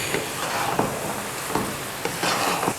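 Rice with almonds, raisins, dried coconut and pistachios being stirred through sugar syrup in a pot over a low flame, a steady wet sizzling with soft scraping strokes at an even, unhurried pace.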